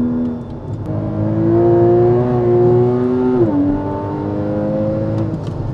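A Porsche Cayman GTS on a timed lap, its engine droning and climbing in pitch under acceleration, then a quick drop at a gear change before pulling again, loud from inside the car.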